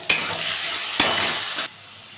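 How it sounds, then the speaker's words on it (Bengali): Potatoes seasoned with salt and turmeric fry in a pan with a continuous close sizzle, broken by two sharp stirring knocks before the sound drops away. "অল্প একটু নুন আর একটু হলুদ দিয়ে আলুটা একটু ভেজে নেব।"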